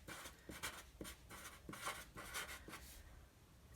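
Marker or chalk writing on a board, a series of quick scratchy strokes with short pauses between them, close and fairly faint, no talking.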